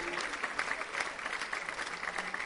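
A theatre audience in Poissy applauds steadily and densely throughout, with many hands clapping at once in a sustained, even wash of sound and no speech over it.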